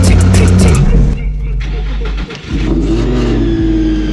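A supercharged Nissan 350Z engine with a Procharger roars at high revs, drops briefly, then climbs again in a loud, throaty rev, close up.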